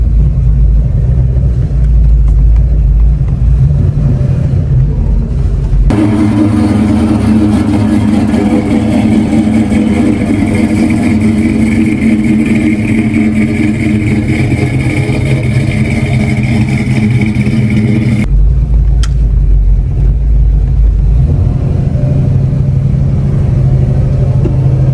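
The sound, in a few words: 1958 Chevy car driving on a test drive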